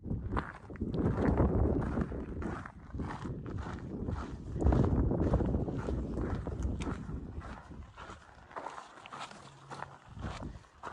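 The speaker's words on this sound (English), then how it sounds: "Still got those gusty winds" Strong, gusty wind on the Pacific Crest Trail buffets the microphone in a continuous roar that swells and eases over the length of the clip, with no voices.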